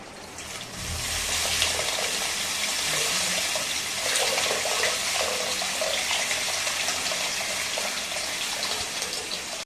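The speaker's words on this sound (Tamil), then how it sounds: "அந்த புளி கரைச்சலை இதில் சேர்த்துக்கலாம்" Tamarind extract pours and splashes into an anchovy fish curry (nethili meen kulambu) in a cooking pot, a loud, close, continuous watery rush lasting most of the moment and easing slightly near the end.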